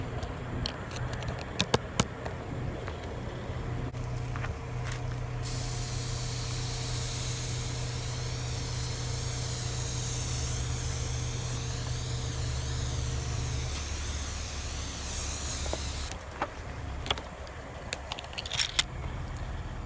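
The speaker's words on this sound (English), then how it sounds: "we'll get the nozzle on the mist setting and take a look at the water behavior" A steady hiss of fine water spray from a hose nozzle on mist setting onto a car runs for several seconds, starting and stopping abruptly, over a low engine hum and light clinks.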